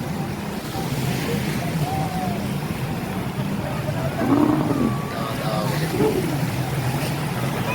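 Banana boat out on the sea off a Pattaya beach, a steady engine drone with wind and water wash, some faint tonal whines and a brief swell of louder noise midway, with no clear voices.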